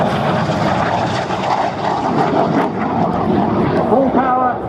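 Red Arrows jets of the synchro pair roar past at an airshow at Scampton, a loud continuous engine rumble with a rising whine near the end, under faint crowd noise.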